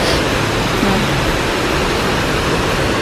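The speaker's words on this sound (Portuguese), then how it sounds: "Essa aqui é a Cachoeira do Mulungu." A steady, dense rush of falling water from the Mulungu waterfall in Bonito, Brazil, roars continuously at close range, with no breaks or other sounds standing out.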